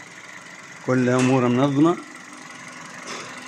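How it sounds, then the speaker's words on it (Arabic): A newly installed Kia Cerato engine idles with a steady, even hum running through the whole stretch while someone speaks briefly over it. "موتور جديد ما شاء الله، صوتو تانكم تسمعو"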